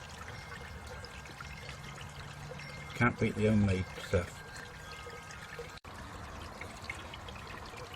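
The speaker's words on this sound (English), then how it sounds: "That shows how clear the water is in the filter going back into the pond." Filtered water pours from a pond filter box back into a garden pond, a continuous steady trickle and splash running throughout, with someone briefly speaking over it midway.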